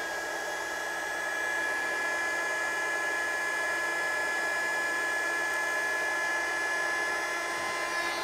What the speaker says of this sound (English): For that, we'll use our heat gun here.